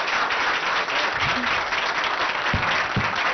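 A roomful of students breaks into loud, sustained applause during a chief minister's visit, dense clapping that stays steady and close throughout with no voices on top.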